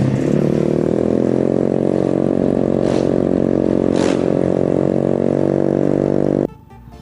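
A Vespa Sprint motorcycle engine runs close and loud at steady, gentle revs, with a continuous buzzing drone and a few short swells before it suddenly drops off at the end.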